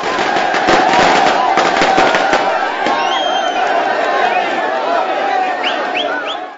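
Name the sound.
firecrackers bursting during celebration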